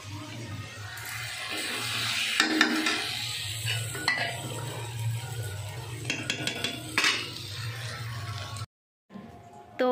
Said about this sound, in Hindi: यहाँ पर आलू को फ्राई कर रही हूँ साथ में प्याज डाल